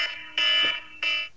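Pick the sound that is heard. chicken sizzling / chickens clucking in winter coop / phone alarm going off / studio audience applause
phone alarm going off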